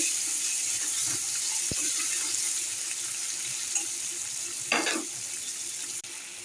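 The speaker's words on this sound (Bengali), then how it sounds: "এবার চিংড়ি মাছগুলো দিতে হবে। চিংড়ি মাছগুলোকে নাড়াচাড়া করে" Prawns stir-fried in a pan with whole garam masala give a steady close sizzle, with a few soft clinks and scrapes of stirring over the constant hiss.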